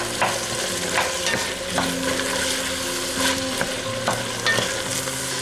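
Chopped onions frying with ground beef in a pan for chili, with a loud, steady sizzle and rhythmic scraping strokes of a spatula every second or so.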